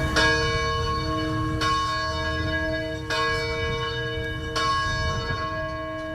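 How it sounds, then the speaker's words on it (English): Bells of St. Peter and Paul Church in Grand Rapids toll four times at slow, even intervals, each strike loud and ringing with a long sustained hum that blends into the next, with no voices. "The bells at St. Peter and Paul Church toll once more."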